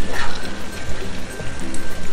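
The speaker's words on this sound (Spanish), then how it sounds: "movemos un poquito y echamos el agua" Water poured from a vessel into a pot of lentils while cooking, a steady close splashing and trickling stream running throughout the short stretch.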